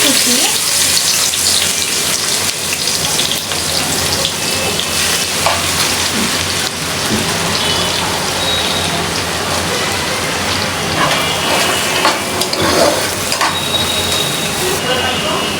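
Chopped onion and a torn bay leaf frying in a pan, with a steady, loud, dense sizzle and crackle throughout, like heavy rain, and no break.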